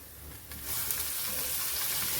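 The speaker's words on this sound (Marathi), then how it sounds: "आपण याच्यात आता आपली मेथी घालून घेऊया." Fenugreek leaves drop into a hot tempering for a traditional millet dish, raising a loud, steady sizzle that jumps up about halfway through and stays dense and close.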